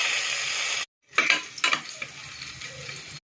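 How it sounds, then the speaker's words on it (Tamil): Garlic fries in ghee inside a pressure cooker with a bright, close sizzle that cuts off briefly, then returns with a few stirring scrapes before stopping abruptly. "குக்கரில் நம்ம நெய் ஊற்றி பூண்டை போட்டுக்கலாம்."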